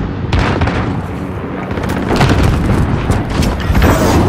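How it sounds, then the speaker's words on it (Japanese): A cruise missile launches and detonates in Call of Duty: Modern Warfare, a loud, sustained roar of booming blasts and rumbling explosions filling the whole stretch with no talk. "巡航ミサイル発射準備よし"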